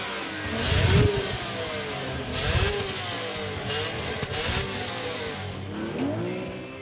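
A BMW M3 inline-six engine revs hard toward 7900 rpm and climbs through the gears, rising and falling in pitch with a loud, continuous roar.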